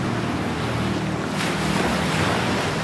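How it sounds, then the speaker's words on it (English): Ocean waves surging onto the beach at Eastcombe, a loud, continuous rushing roar of surf that swells midway, with wind buffeting the microphone throughout. "See the glittering ocean at Eastcombe, its waves unravelling in curving surges."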